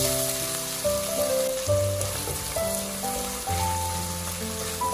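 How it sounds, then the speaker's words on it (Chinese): Minced meat sizzling with a spoonful of soybean paste as a spatula turns it in a hot wok, a steady close frying hiss with background music tones running underneath. "接着往里面加入一勺黄豆酱，继续用铲子翻动，"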